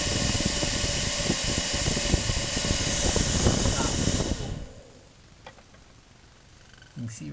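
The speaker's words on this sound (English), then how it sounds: "That's the blower motor right there." A 12-volt blower motor taken from a 1400-watt hair dryer, running in a bomb shelter NBC filtration system, a loud steady close whooshing roar that cuts off abruptly, leaving quiet room tone.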